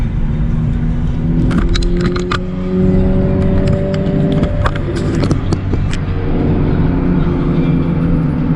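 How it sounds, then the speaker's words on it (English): A Ferrari sports car driving past on a San Fernando Valley street, its engine whirring and rising in pitch as it nears, loud and close amid other traffic noise. "Ferrari."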